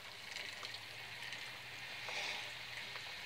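Cold rain falling outside on a 37-degree morning, a faint, even patter and hiss with occasional soft drips, distant and quiet, no talking.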